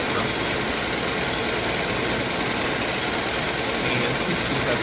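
Tractor engine idling in a farming video game, a steady low droning rumble that holds constant and fairly loud with no change in pitch.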